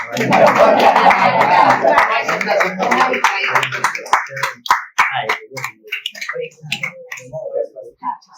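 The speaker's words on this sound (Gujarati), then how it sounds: "દરેક જણા તાળી પાડો" A crowd claps together loudly at a dry fasting event, the applause thinning into scattered individual claps that trail off toward the end.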